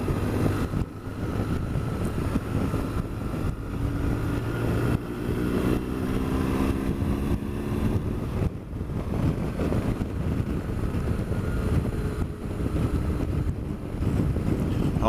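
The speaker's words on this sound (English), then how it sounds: "I don't know whether you can hear that through the microphone, but the wind's howling." Wind roars steadily against the microphone over the low rumbling engine of a BMW S1000XR motorcycle on a test ride, loud and continuous for the whole stretch, with no speech.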